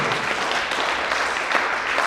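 An audience at a company's first anniversary event breaks into brisk, continuous applause, a dense and even patter of many hands clapping close by.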